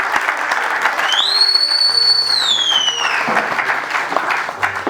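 Audience applause at a Red Cross DRC advocacy day and honorary diploma ceremony: steady, dense clapping throughout, with a high whistle-like tone rising and falling in the middle.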